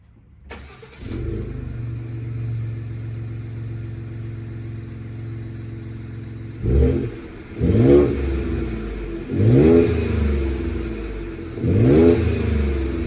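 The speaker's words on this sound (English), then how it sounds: "Here's some exhaust revs." Ford 2.7 EcoBoost V6 with a resonator-delete exhaust idling steadily, then blipped through five short throttle revs that rise and fall back, loud and close with a deep exhaust tone.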